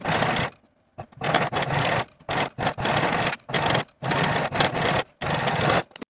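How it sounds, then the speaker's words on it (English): A serger sews the bottom edges of a jumpsuit facing in one continuous seam, running in repeated bursts separated by short pauses, close and fairly loud. "I'm going to take it back to my serger and in one continuous seam,"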